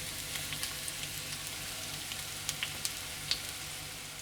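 Sliced onions frying in cooking oil in a pan for shakshuka, giving a steady soft sizzle with a few faint crackles and pops, heard close and alone with no voices.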